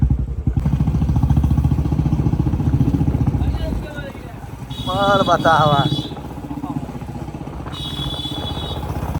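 A motorcycle carrying three riders runs with a steady engine drone and clatter beneath lively conversation in the foreground, voices talking over the continuous motor hum throughout.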